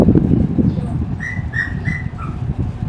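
Short bright whistled notes, three or four in a quick run, over rustling and low outdoor noise on a hike.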